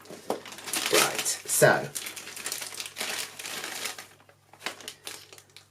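Plastic doll packaging being cut open and pulled apart for a Barbie Colour Reveal merman, loud close crinkling and crumpling in bursts, with a person speaking briefly.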